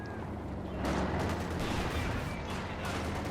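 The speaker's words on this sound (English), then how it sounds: "Crushed under the weight of the Panzer IV shots" Panzer IV tank cannon shots in the Company of Heroes 2 video game, a short burst of loud, dense gunfire-like blasts and rumble with no talking.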